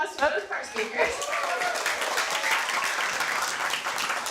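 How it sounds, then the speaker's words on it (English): A live audience at an astronomy talk night in a bar gives the speakers a round of applause, many hands clapping in a sustained, fairly distant wash, with a voice speaking briefly at the start. "Let's give one more round of applause to both of our speakers."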